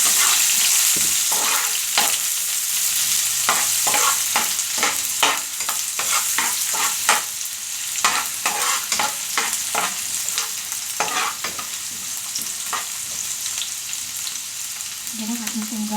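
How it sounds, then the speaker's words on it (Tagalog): White onion sautéing in a pan for tilapia picadillo, a steady close sizzle broken by repeated scraping strokes of a spatula stirring the onions, with no talking. "Igigisa po muna natin siya. Lalagay ko na po yung white onion."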